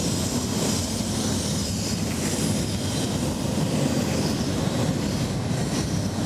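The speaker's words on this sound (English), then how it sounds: "Here comes the train again." Train rolling past near a busy road, a dense continuous rumble and roar with faint clattering, loud and steady throughout with no voices.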